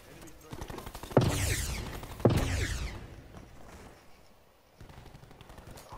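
Gunfire in the Black Ops 4 video game: two loud, sharp shot bursts about a second apart, each trailing off in a short echoing tail, then quieter scattered game sounds.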